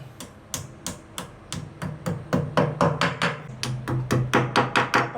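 Sharp, rhythmic hammer blows strike repeatedly while a shelf is mounted, about twenty close, evenly spaced knocks with no speech.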